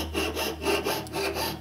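A hand saw blade cuts through hot metal stock for a handmade ring, held vertical along a marked line. Several steady back-and-forth strokes rasp close by, with no talking.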